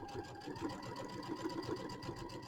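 A sewing machine set to a piecing stitch with a J foot runs steadily, stitching a quarter-inch quilt seam with a fast, even mechanical hum and rapid needle clatter, close and continuous throughout.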